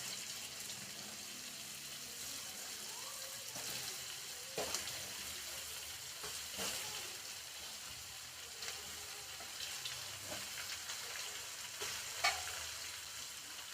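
Large mushrooms fry in oil in a pan with a steady, quiet sizzle, broken by occasional soft clicks and scrapes as they are stirred.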